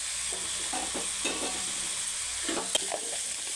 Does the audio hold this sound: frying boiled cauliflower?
yes